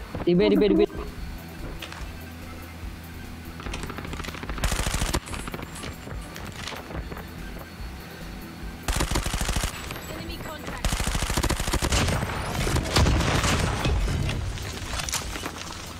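Gunfire from a Call of Duty Mobile match, with a sniper in play: repeated bursts and rattling volleys at varying distances, with loud clusters around the middle and again toward the end, under ongoing voices.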